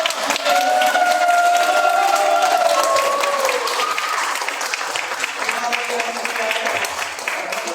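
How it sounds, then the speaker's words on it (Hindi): An audience applauds loudly to welcome a leader on stage at a team gathering in Ayodhya. The clapping is dense and sustained, with a crowd's cheers and raised voices mixed in, continuing steadily for several seconds before easing slightly. "एक बार जोरदार तालियों के साथ में"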